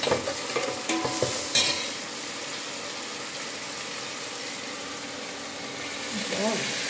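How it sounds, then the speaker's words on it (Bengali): Greens and cabbage frying and being stirred in a pan for khichuri give off a steady, moderate sizzle, with a few louder clattering scrapes early on before it settles into an even hiss. "ভাজবো, শাকটা একটু নরম হবে।"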